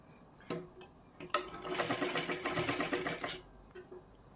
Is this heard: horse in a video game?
no